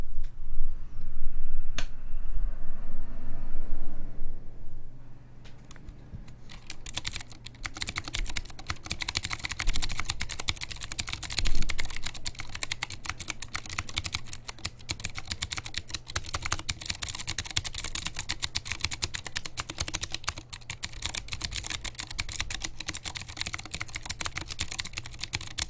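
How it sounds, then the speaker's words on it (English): Vortex Core keyboard with stock Cherry MX Blue switches and no O-rings, struck in rapid, random key bashing that produces dense, crisp clicking. A few isolated taps and a quiet stretch come first. "we can just do some random key bashing, and you can have an idea of what the actual keyboard sounds like with Cherry MX"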